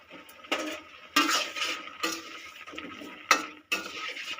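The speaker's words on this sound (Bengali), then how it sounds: "তার সঙ্গে আমি এবার দিয়ে দেবো এই কুমড়োটা।" Pumpkin pieces tipped into a pot of part-boiled potatoes for Bengali shukto, giving several close bursts of clattering, scraping metal and splashing that come and go over a few seconds, with no talk.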